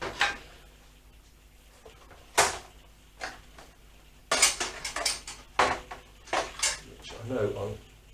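Metal drill bits are picked through and handled during motorcycle fairing repair on a Honda CBR400, giving sharp, irregular metallic clinks and rattles close by, with speech in between.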